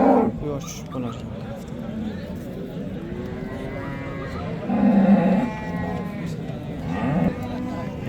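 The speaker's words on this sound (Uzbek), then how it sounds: "Yana bitta rossiyskiy sigirimiz." A Russian-breed cow moos at a busy livestock market in Yozyavon, a low drawn-out call rising over steady crowd chatter as people talk nearby.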